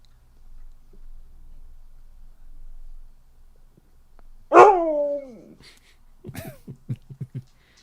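A dog lets out a sharp whine that rises and falls, followed by a short run of quick whimpering yelps, close by after several seconds of near silence.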